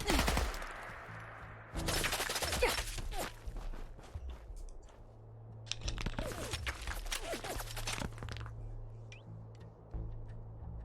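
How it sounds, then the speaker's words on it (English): Automatic gunfire in the video game Fallout 4, several sharp bursts of rapid shots with quieter gaps between, plus faint clicking and game ambience underneath. "But it's nothing a little bit of automatic fire can't deal with."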